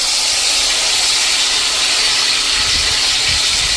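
Chopped tomatoes, two medium ones, drop into a hot oil tempering with turmeric, giving a steady, loud, close sizzle and hiss that runs unbroken throughout with no talk.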